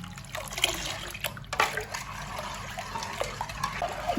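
Sattu flour being stirred into water by hand for a sweet sattu drink, giving a close, steady swishing and sloshing of liquid with small splashes, no voices.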